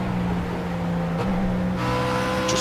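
Race car engine held at reduced power in Project Cars on the Nürburgring, a steady low drone with a faint shift in pitch partway through, continuous and close with no talk.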